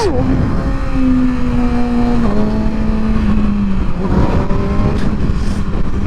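A Kawasaki Ninja sport motorcycle accelerating hard on a back road, its engine whine climbing in pitch, dropping at each upshift, then climbing again through the gears, loud and close with wind rush.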